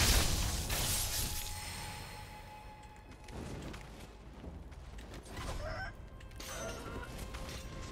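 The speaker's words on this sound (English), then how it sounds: "I gotta aggro me, chickens" Chickens clucking in the video game Sekiro, faint scattered clucks and squawks amid low ambient game sound, with occasional louder bursts.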